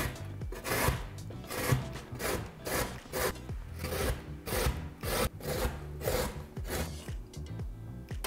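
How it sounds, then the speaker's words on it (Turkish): Purple and orange carrots are coarsely grated in long downward strokes, each pass a close, crunchy rasp, repeating in a steady rhythm of about one stroke per second. "Havuçları kalın kalın rendeliyoruz."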